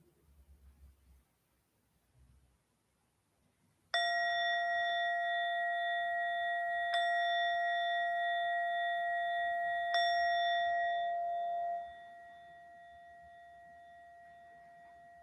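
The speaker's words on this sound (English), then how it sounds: "we will conclude our practice with 3 chimes of the bell" A meditation bell is struck three times, each chime ringing out clear and sustained with bright overtones. The strikes fall about three seconds apart, and the final tone lingers and slowly fades in a quiet room.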